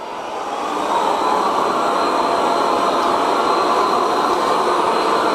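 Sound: Viomi Alpha 2 Pro robot vacuum running on medium suction

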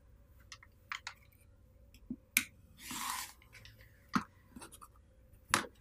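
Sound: cutting quilt fabric along a long ruler

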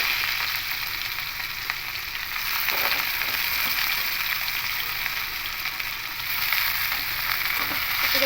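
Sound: snake gourd being mixed and fried in oil

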